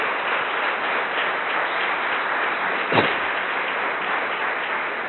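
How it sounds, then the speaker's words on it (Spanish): A church congregation claps in a steady, moderately loud wash of applause, with one sharper clap or knock standing out midway. "démosle el aplauso"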